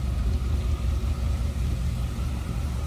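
A 1957 Chevrolet Bel Air two-door hardtop idles with its V8, a mild cam and an unobtrusive exhaust giving a steady, close, low rumble with a slight uneven lope.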